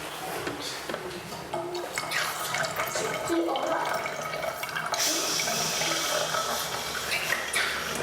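Water pours into a measuring container during a classroom lesson on milliliters, a steady trickling and splashing that runs throughout and grows brighter partway through, with faint classroom voices underneath.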